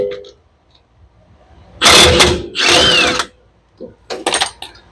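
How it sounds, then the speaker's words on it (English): A 13 mm impact wrench hammers at a brake caliper bolt on a 2012 Ram 2500, two loud rattling bursts of about a second each, then shorter chattering taps close by. "13 millimeter impact on the bottom"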